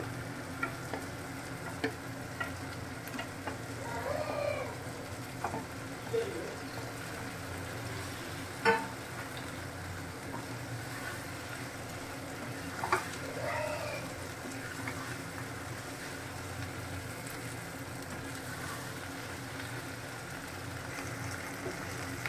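Fried paneer sizzles and crackles steadily in a pan of shahi paneer gravy, a continuous low frying hiss with occasional ticks and clinks of stirring.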